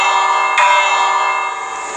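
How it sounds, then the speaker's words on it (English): A village bell in Minecraft rings with one loud, clear, metallic strike whose bright ringing tone sustains and slowly fades. "Can I ring this bell?"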